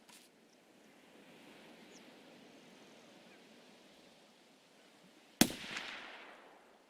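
A rifle shot in Escape From Tarkov, one sharp loud crack near the end with a rolling echo tail, after a stretch of faint outdoor ambience.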